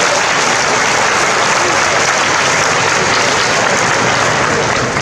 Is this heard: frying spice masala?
no